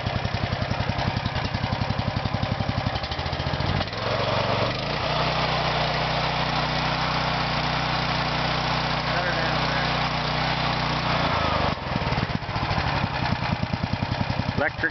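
A Honda GX390 gas engine with electric start and a slightly battered muffler guard runs steadily and loudly close by, its rumble shifting in tone midway before returning to a rougher throb.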